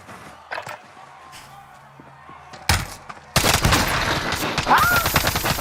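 Gunfire in Warzone rattles out in loud, rapid bursts, sparse cracks early on giving way to dense, sustained automatic fire close by, with a few scattered impacts and a brief voice underneath.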